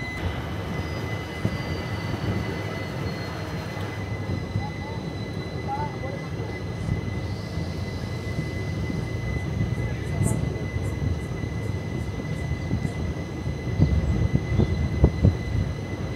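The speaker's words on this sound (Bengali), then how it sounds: "এক্ষুনি ট্রেন ছেড়ে বেরিয়ে যাবে হসপিটাল জংশন থেকে।" A train departing from Hospet Junction, a steady low rumble and hum of the rail carriages that builds slightly toward the end, with a few faint clanks and a continuous tonal whine over it.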